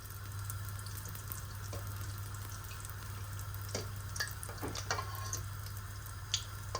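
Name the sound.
sfenj dough frying in a deep fryer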